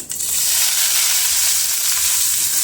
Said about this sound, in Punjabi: ਹੁਣ ਆਪਾਂ ਇਹਦੇ ਵਿੱਚ ਪਿਆਜ਼ਾਂ ਨੂੰ ਪਾ ਦੇਵਾਂਗੇ